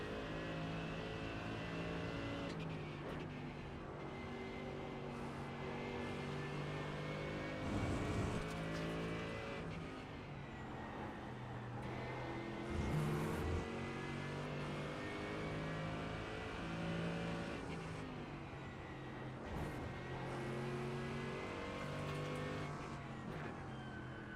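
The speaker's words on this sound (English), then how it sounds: "I can hear that McLaren" A McLaren GT3 race car engine in the iRacing sim, a steady loud droning whine that rises and falls through gear changes for the whole stretch, with other cars' engines layered in and no talking.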